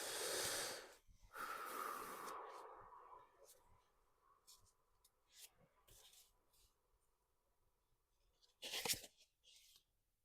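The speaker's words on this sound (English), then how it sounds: "I'm shuffling to see what else from this deck wants to come out." Papery riffling and snapping bursts as a tarot deck is shuffled nearby, with a long swish at the start and sharp flurries later, quiet in between.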